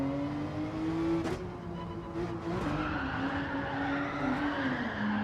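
Race car in Gran Turismo 7 drifting during daily online racing, a sustained tyre squeal over a continuous engine drone that shifts pitch as the car slides, steady and moderately loud.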